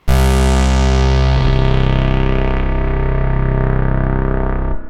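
A loud, buzzy ARP 2600 synthesizer emulation tone with rich harmonics holds steady, its brightness sweeping down and shifting partway through before it cuts off.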